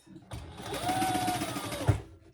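A sewing machine runs steadily at a 3.5 stitch length, stitching a small wristlet bag near its D-ring. The motor hum is close and even for nearly two seconds, then ends in a soft knock.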